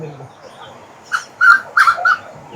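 A grey junglefowl calls nearby in Kodaikanal in a few short, clipped bursts forming a broken crowing phrase against a quiet background.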